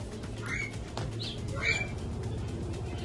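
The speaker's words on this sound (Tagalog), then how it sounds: "Mga ibon." Birds coo and chirp faintly, likely pigeons or doves, amid a steady low hum and bustle at an open market, with scattered wing flutters and no clear talk.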